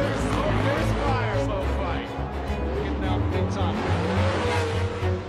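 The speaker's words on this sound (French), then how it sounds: "Là par exemple, on peut voir Ken Block contre la légende du drift Daigo Saito" Gymkhana Grid race with drift cars sliding against each other, engines roaring loud and continuous with tire squeal and skidding throughout, while a voice talks over the top.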